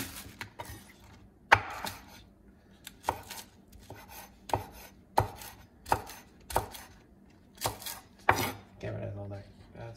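A knife chops green onion on a cutting board while preparing a potato chip omelette: about a dozen crisp, close wooden knocks in an uneven rhythm, with no talk.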